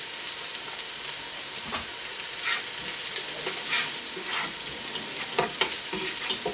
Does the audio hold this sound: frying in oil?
yes